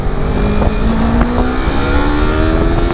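Motorcycle engine drones loudly up close on a moving ride, pitch edging gradually higher, with constant wind noise and a few faint clicks or knocks over it and no talking.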